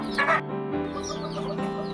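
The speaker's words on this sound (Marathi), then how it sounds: "या ठिकाणी या कोंबड्या अंडी देत असतात." Hens in a village coop where they lay eggs, clucking close by in short bursts with a louder cluck near the start, alone without talk.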